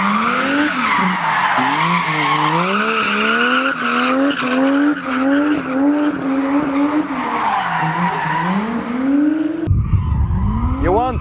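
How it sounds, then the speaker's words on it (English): A drifting car slides past at the Sochi race track, its tyres squealing in long wavering howls over a loud, rising and falling engine, ending in a sudden close roar; a voice is faintly present. "a drifting car speeding past by you"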